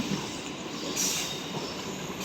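A train enters Nidadavolu railway station, with a low rolling rumble of wheels on track and a brief high wheel squeal near the middle, heard from on board.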